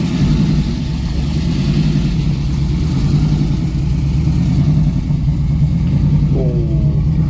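A muscle car on fat tires idles and revs at a drag strip start line, a loud, close, rumbling engine note that stays steady throughout with a brief rising rev near the end.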